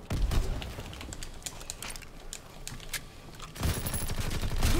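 Rapid automatic gunfire from the World War II shooter Call of Duty WW2, bursts of crackling shots rattling across the whole span, growing denser and louder toward the end.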